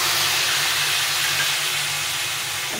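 Ginger water hits vegetables in a hot pan with a loud, continuous steamy hiss and sizzle that holds steady throughout, close up and without voices.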